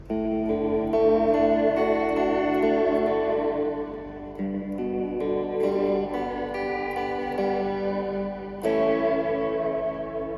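A Fender Reflecting Pool pedal in tape echo mode 2, with lower fidelity and more tape saturation, shapes a sustained, heavily effected guitar passage with chorus-like shimmer, repeating echoes and a fresh strum near the end.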